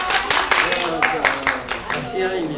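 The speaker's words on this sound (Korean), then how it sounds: "박수 한번 주세요, 여러분." Audience at a horror film press screening claps while an emcee keeps talking over it; scattered, rhythmic handclaps sit under the voice rather than a full ovation.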